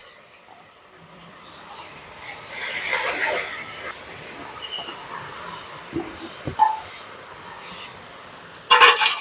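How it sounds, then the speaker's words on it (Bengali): Raw papaya goes into hot sugar caramel in a pan over a low flame, giving a loud burst of hiss and sizzle that then settles into a softer sizzle with a few clatters. "এবারে পেঁপেটা দিয়ে দিচ্ছি"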